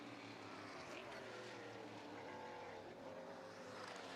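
Onboard sound from a Camaro race car heading down into turn 1 at Ruapuna, a steady, loud engine roar mixed with wind rush that continues without a break.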